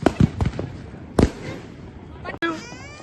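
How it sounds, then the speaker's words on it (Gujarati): Bidi bomb firecrackers bursting during Diwali celebrations, sharp close cracks scattered over a few seconds amid people talking nearby. "બીડી બોમ્બ છે બીડી બોમ્બ."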